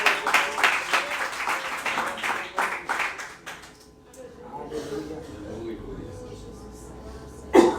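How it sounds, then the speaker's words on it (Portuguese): Congregation in church claps in a burst of applause that thins out midway, followed by quieter room sounds and a brief sharp noise at the end. "Aplauda o Senhor com o seu melhor."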